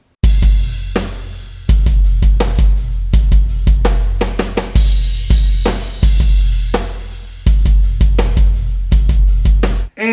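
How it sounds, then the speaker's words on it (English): Rock drum beat backing a rock riff, a heavy kit groove with booming kicks, cracking snare hits and steady cymbals, loud and close, played alone with no talk. "I'll find a good drum beat now and I'll show it to you on the other side."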